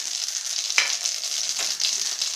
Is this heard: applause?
no